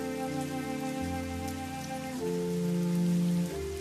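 Heavy rain pours down steadily in a village, a dense hiss of water heard beneath sustained, droning musical tones that shift in pitch partway through.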